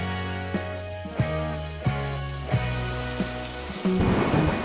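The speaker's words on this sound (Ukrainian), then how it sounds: "Штормова погода." A thunderstorm brings rain pattering steadily while several sharp thunder cracks land at regular intervals, then a heavier burst of rain and rumble near the end.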